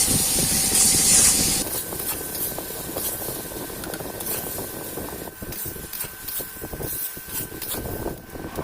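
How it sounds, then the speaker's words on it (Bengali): Young jackfruit and potato pieces fry in oil with turmeric, a steady close hissing sizzle that starts louder and settles into a constant spray-like crackle with no talking. "দিয়ে দিচ্ছি অল্প হলুদ ইঁচড় আলুটাকে ভালো করে ভেজে নেবো"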